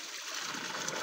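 Cold water flowing and splashing steadily at a deep bathing spot where people swim, a soft continuous rush close by with no clear talk over it.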